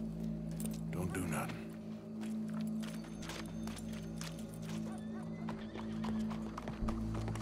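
Horse hooves clip-clop steadily with a whinny, up close, in the video game Red Dead Redemption 2, while people talk over the sounds throughout.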